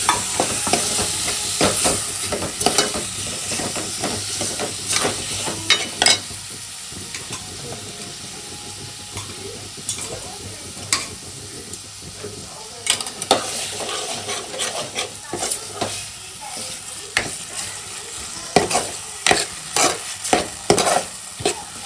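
Makul (squid) sizzles and fries in a pan of Malvani-style spicy masala, with repeated scraping and stirring strokes of a spoon throughout. The frying hiss stays steady and close.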